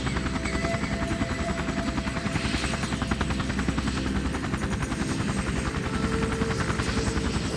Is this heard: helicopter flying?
yes